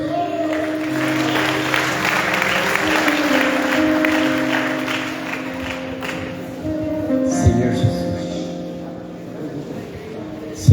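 Applause from a congregation at a church conference, a broad steady clatter of many hands over sustained musical tones, swelling briefly near the middle and thinning toward the end.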